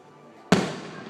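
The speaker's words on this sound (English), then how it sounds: "Now we're watching all the fireworks go off right now." A firework goes off: a single sharp, loud bang after a brief low rumble, followed by a crackling, fading roar.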